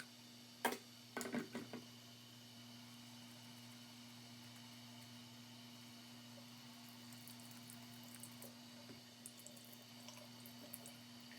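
Cold tap water runs steadily from a faucet while makeup brushes are washed, making a faint, constant stream. A few sharp knocks and clatters come near the start, and light ticks are scattered through it.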